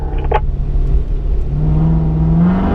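Car engine pulling hard at full throttle, a loud steady drone with pitch climbing as revs build, close and continuous throughout.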